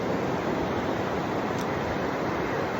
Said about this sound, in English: I'm just sitting by the beach here, so you might hear some waves and the ocean.